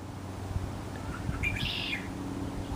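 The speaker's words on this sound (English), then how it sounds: "Say, Louie, so that's a bird up there in that tree right there" A bird calls briefly from a tree in a backyard, a faint, high, distant chirp heard against a steady outdoor background hum.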